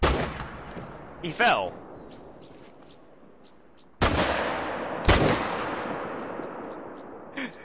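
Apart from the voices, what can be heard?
gunshots at a bear in the video game Hunter: Call of the Wild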